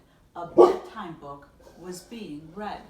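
A dog barks and yips a few times close by, overlapping a woman reading a bedtime picture book aloud indoors.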